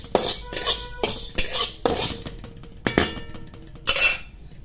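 Toor dal tipped into a pan and roasted, producing a string of sharp metallic clinks and scrapes at irregular intervals, close and fairly loud, with quiet gaps between strokes.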